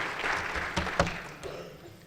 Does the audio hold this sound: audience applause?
yes